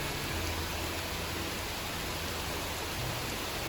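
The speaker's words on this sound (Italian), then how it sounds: "Oggi purtroppo la pioggia è forte e non ha nessuna intenzione di smettere." Heavy rain pours steadily onto a Brooklyn or Manhattan street in New York, a dense, even hiss with a low rumble underneath, loud and unbroken for the whole stretch with no voices.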